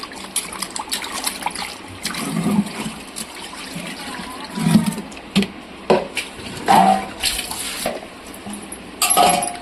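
Fish pieces are rinsed in water by hand, with irregular splashes, sloshing and trickles close up, interspersed with clinks of a bowl, and no talking.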